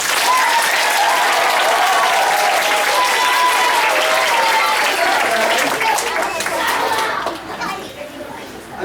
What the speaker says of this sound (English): let us give this very special guest, Mr. Ken Jennings, a big round of applause